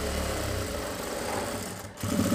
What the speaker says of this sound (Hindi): ये लग गई हमारी कमर पर भी सिलाई